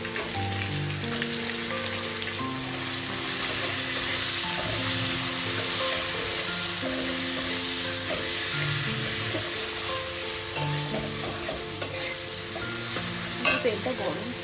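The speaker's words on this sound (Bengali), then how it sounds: "ঠিক আছে, এটা ভাজা হোক।" Food fries in hot oil in an iron karahi, giving a loud, continuous crackling sizzle with stirring scrapes, close up and unbroken for the whole stretch, with no talk over it.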